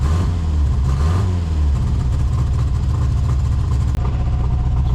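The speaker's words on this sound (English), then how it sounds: "Let's give it a rev again." A car engine on a very cold day, running close and loud: a deep idle rumble rises into a rev, then settles back to a steady low drone, with a single small click near the end.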